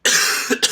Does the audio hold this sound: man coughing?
yes